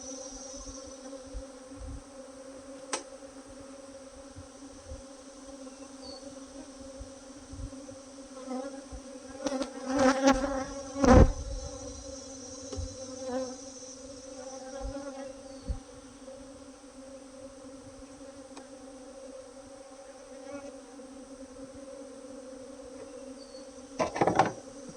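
Angry honey bees buzz around an open hive during a colony split into a lower box, a close, steady drone with individual bees swelling louder as they pass, plus occasional knocks of hive equipment.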